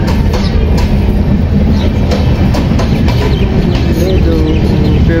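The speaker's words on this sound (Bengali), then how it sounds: "এই যে চলে যাচ্ছে ট্রেন।" A train passing close by, a loud, steady rumble with rhythmic clickety-clack of wheels on rails filling the whole stretch, with a faint rooster cluck in the background.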